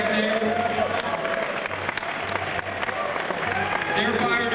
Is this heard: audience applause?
yes